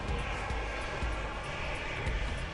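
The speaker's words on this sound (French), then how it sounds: "un décollage un peu plus virulent, avec une montée en chandelle directe et la rentrée du train d'atterrissage" Model jet aircraft making a steep, aggressive takeoff and climbing straight up while retracting its landing gear, heard as a steady, fairly distant engine roar with no voices.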